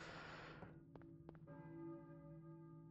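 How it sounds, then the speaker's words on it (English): A church bell tolls in the Silent Hill video game, with two quick resonant strikes and a long ringing hum that slowly fades, faint and alone after a brief burst of static. "Hear a church bell, maybe?"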